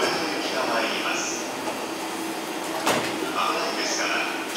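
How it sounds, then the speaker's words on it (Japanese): A JR Tokaido Line commuter train rumbles and hisses into a platform at Hiratsuka Station during morning rush hour, while a Japanese public-address voice announces a Ueno Tokyo Line local train bound for Ueno over the noise. "まもなく1番線に上野東京ライン普通上野行きが参ります"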